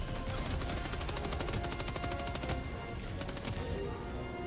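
Rapid bursts of automatic gunfire from a teammate in the video game Helldivers 2 rattle on densely for several seconds, with a short pause before another burst, loud over game noise.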